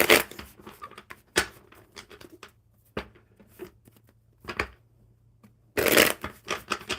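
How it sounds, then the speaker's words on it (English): Playing cards are shuffled by hand in quick riffling bursts, several separate flurries of crisp flapping and snapping separated by short pauses, close and fairly loud in a quiet room. "one more good shuffle for Aniket"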